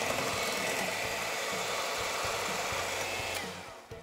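An electric hand mixer runs steadily on medium speed whipping egg whites into a froth, a continuous motor whir with faint rattling in the bowl that holds nearly constant before tapering off at the end.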